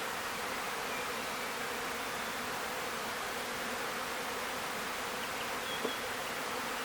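Honeybees in a new hive just starting to build comb, giving a steady, dense buzzing drone that fills the whole clip at an even level, close and unbroken, with no voices.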